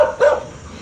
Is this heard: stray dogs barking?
yes